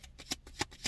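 Tarot cards are shuffled quietly in a few quick papery riffles, each a soft burst about a third of a second apart, with no voices.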